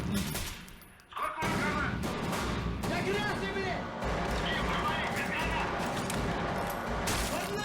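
Gunfire in Escape From Tarkov rattles in repeated bursts and volleys, dense and fairly loud, under a voice talking over it throughout.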